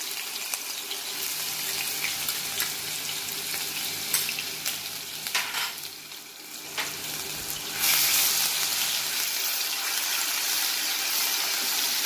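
Crushed ginger and garlic fry in hot oil in a kadai, giving a steady, close sizzle that carries through the whole clip and grows louder and brighter toward the end, with a few stirring scrapes.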